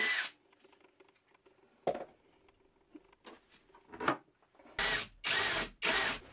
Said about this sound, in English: and then drill me hole through the first one.